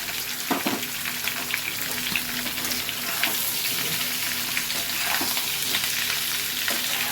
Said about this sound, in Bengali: তখন তুমি আস্তে করে আলুগুলো এর মধ্যে দিয়ে দেবে